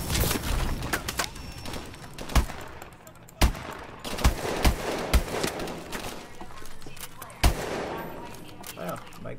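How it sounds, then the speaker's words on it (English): Gunfire in Call of Duty: Advanced Warfare crackles in sharp bursts and single shots, some rapid and some spaced apart, over a steady background rumble of battle noise. "My gunshots sound different."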